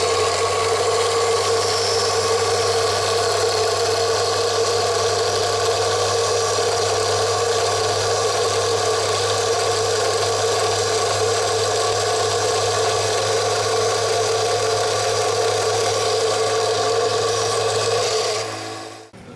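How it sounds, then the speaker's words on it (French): A small diamond-bit drill bores into a river stone kept in water, giving a steady, sustained motor whine with a constant low hum that runs nearly unchanged for about eighteen seconds before cutting off. "on va la percer avec une petite perceuse à forêt diamantée trempée dans l'eau"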